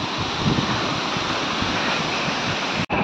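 Masila Falls in the Kolli Hills pours in a steady, dense rush of falling water, loud and close, with a brief dropout near the end.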